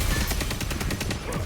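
Rapid repeated gunfire from a shotgun in a video game, a dense run of loud evenly spaced shots filling the short moment.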